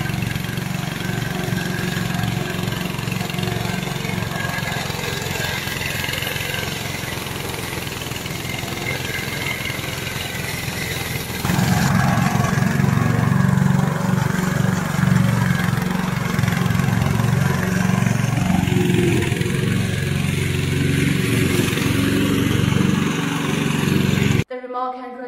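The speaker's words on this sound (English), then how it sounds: "Today I'm going to introduce our remote control lawnmower." A small petrol engine on a remote-control lawnmower runs continuously with a steady buzzing drone, growing louder and rougher midway, then cutting off abruptly at the end.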